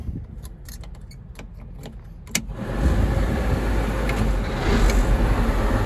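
Engine of a Caterpillar 140H motor grader heard from inside the cab, with a few clicks and a sharp key-turn sound before the engine catches at about two and a half seconds and settles into a steady, loud rumble.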